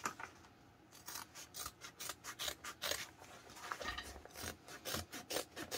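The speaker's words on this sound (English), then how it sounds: "All right, we're going to trim down this seam allowance." Scissors snip away a fabric seam allowance with a quick run of short, crisp cuts in an irregular rhythm, close and fairly quiet.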